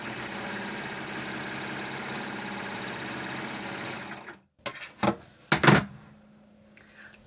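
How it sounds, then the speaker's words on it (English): Sewing machine running off a short line of test stitching, a steady rapid whirring hum for about four seconds, then stopping, followed by a few handling clicks and rustles. "I'm just going to run off a little bit of stitching to see that everything's all right."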